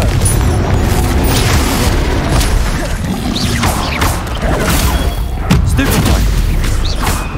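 A Confringo fire spell detonates in Hogwarts Legacy during combat, giving heavy booming blasts and crashing impacts over continuous loud battle noise.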